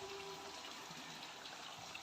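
Clear mountain water trickles and splashes from hoses at a roadside stop near Antipolo, a faint, steady, continuous babble with no voices over it.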